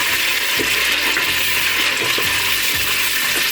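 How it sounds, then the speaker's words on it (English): Nigerian stew sizzling steadily in hot oil in a pot while a spoon stirs it, with a few soft scraping strokes rising over the constant close frying hiss. "So this is it. This stew. I'm gonna stir it."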